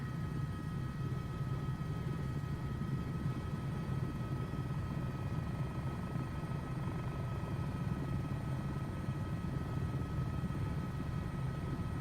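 An H125 helicopter in a flight simulator game, lifting off from Edinburgh. The rotor and turbine drone holds steady and even throughout, a constant low hum with a faint high whine and no talking.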